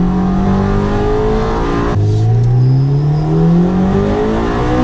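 A Honda Civic Type R accelerating hard, its loud engine note climbing steadily, dropping briefly at a gear change and then rising again, close and continuous with no talk.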